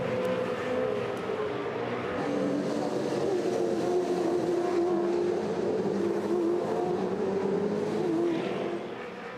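V8 Supercars at the 2005 Adelaide 500 street race, including the Super Cheap Auto Racing Holden Commodore, roar past in a continuous loud engine drone that holds steady and fades slightly at the end.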